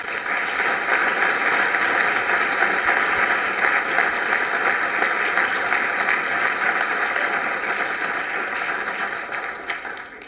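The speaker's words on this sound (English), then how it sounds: "Ladies and gentlemen, if you would join me in another round of applause for all of our honorees." Sustained audience applause for honorees at a city commission meeting, a dense, steady wash of many hands clapping for about ten seconds that tapers slightly at the end.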